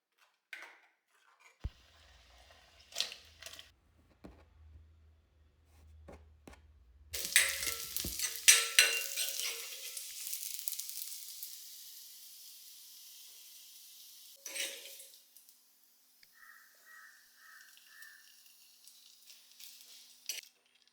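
Fish curry made with ground coconut bubbling and sizzling in a pan, with stirring and the clink of a utensil; the cooking noise swells loudly midway, then drops back to quieter clinks and scraping.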